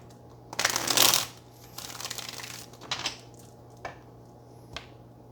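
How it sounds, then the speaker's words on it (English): Tarot cards are riffled in a loud burst, followed by a few softer shuffles and single card taps, close by with a low steady hum underneath. "All right, one more shuffle."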